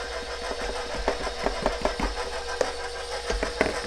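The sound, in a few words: KitchenAid stand mixer mixing apple bread dough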